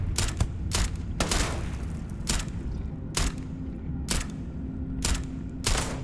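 Repeated gunfire in the video game Starfield: sharp bursts of shots at irregular intervals over a steady low hum, fairly close and loud, with no talking.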